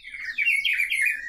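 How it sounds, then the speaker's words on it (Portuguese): A sabiá thrush calls loudly from inside, a close series of bright, warbling whistled notes run together in about a second, alone over faint background. "Olha o Sabiá gritando lá dentro."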